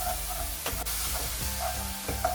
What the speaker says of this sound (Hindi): 2 टीस्पून गार्लिक पेस्ट। अभी इसको लो फ्लेम में फ्राई करेंगे 3 से 4 मिनट तक